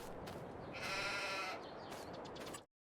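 Sheep on a farm in Farming Simulator 22 bleat over a steady background hum, one louder, drawn-out bleat in the middle among fainter calls, before the sound cuts off abruptly.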